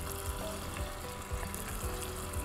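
Shrimp sizzle in a hot skillet, a close, continuous crackling fry with soft bubbling and a few light pops and bumps, no talking.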